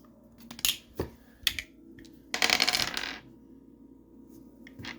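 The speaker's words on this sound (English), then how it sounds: "Time to roll the dice." Dice clatter onto a hard surface in a few short, sharp bursts, then a longer rattling tumble follows. The sounds are close and crisp, with no talking over them.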